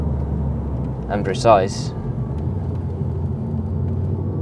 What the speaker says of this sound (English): you just love the noise of the engine as well